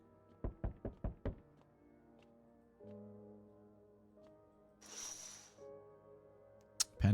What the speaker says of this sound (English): They bang on doors, desperate for shelter